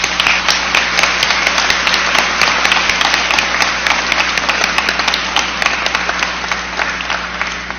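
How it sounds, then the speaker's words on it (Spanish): Loud, sustained applause fills a hall at a forum on women's political participation, a thick wall of clapping from a large crowd that stays steady from start to finish over a low background hum. "yo les doy un fuerte aplauso a todas ustedes"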